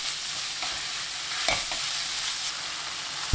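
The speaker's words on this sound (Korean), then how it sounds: "고추장 1스푼 넣고 고기에 양념이 스며들도록 볶습니다" Pork stir-frying with gochujang and mirin in a pan for a Korean stew, a steady soft sizzle with a few scraping stirs and a clack near the end.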